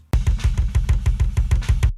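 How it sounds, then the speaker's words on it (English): Kick drum track from a death metal multitrack recording: a rapid, even stream of punchy, close-miked kick hits, about six per second, loud and alone, stopping cleanly after two seconds. "one of the kick drums sounds really nice"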